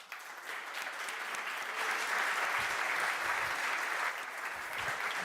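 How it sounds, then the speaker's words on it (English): Sustained applause from a crowd at the 2022 Start Up Energy Transition award ceremony, a dense, steady clatter of many hands clapping that swells slightly midway and continues without pause, with no voices over it. "So please give a very big round of applause to Andreas Kuhlmann,"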